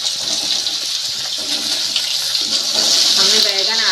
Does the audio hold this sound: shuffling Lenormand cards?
no